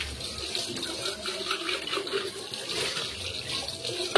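Tap water runs while a greasy steel oil container is rinsed clean, a continuous broad splashing hiss that stays fairly close and steady throughout.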